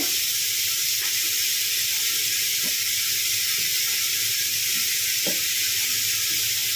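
Green chili, ginger and garlic sizzle steadily in hot oil in a pan, a continuous bright hiss with a few soft clicks of a utensil scattered throughout; no voices.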